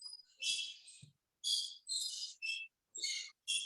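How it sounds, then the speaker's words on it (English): A board meeting hears short, high, airy whistle-like tones in separate bursts, faint and fairly distant, with brief silences between them. "We hear a weird whistle."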